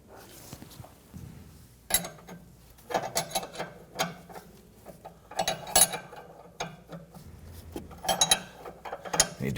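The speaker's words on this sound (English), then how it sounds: "then we'll use our ratchet to go ahead" Ratchet clicking in short bursts while loosening an inner tie rod on a 2017-2020 Hyundai Elantra, close and fairly quiet metallic clicks with shop scraping between them.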